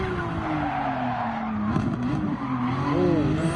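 A tuned racing car in a video game whistles with a rising and falling turbo tone over its engine drone, and brief tire squeals cut in midway.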